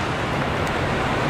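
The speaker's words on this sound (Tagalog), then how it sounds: "Saktong-sakto yung gantong ulan mga tol." Steady, loud rain falling on a home garden of tomato and chili plants, a dense continuous hiss with no pauses and no talk.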